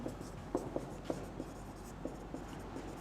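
Chalk or marker strokes on a classroom board during a Class 11 set theory lecture: a series of short scratchy taps and scrapes at an uneven pace, fairly close but quiet against a steady room hum, with no talking.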